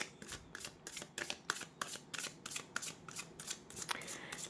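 Tarot cards shuffled by hand during a Thai horoscope reading, a steady run of quick papery riffling bursts repeating close up for the whole stretch.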